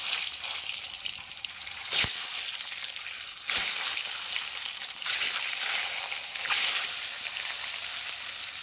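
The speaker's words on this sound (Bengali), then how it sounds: "তেল গরম হয়ে গেছে, এবার ভেজে নেবো ডিমগুলোকে" Eggs sizzling in hot mustard oil, a continuous close crackle with a few sharper pops and spatters rising every couple of seconds.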